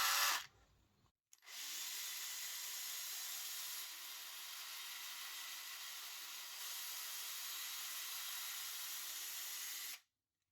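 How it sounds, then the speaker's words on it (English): A drill spins a round file to widen a hole in a homemade floating fishing jig, giving a steady high whine for about nine seconds after a brief start-up. "Let's widen the hole with our round file squeezed into a drill."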